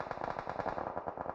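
Automatic gunfire in the video game PUBG during a crowded match, rapid dense bursts of overlapping shots rattling continuously at moderate loudness with no pauses.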